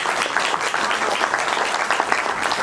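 Sustained, steady applause from an audience at an awards ceremony in Delhi, dense clapping filling the whole stretch at an even loudness with no voices over it.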